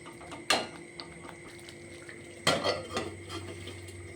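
Pieces of fried fish go into a pan of doi katla gravy. Two sharp clanks of metal on the pan ring out about two seconds apart, each followed by soft scraping and a faint simmer.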